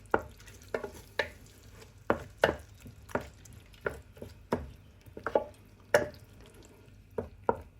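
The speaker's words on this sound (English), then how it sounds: "Fully incorporate it into the spice mix, keeping the heat on low and mixing quickly so the yogurt doesn't split." A spoon scraping and knocking in a pan while yogurt is stirred into a spice mix over low heat, about a dozen distinct clacks at an uneven rhythm over a faint background.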